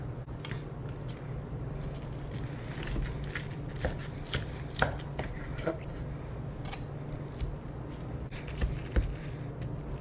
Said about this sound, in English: So we're gonna just cut straight into the middle here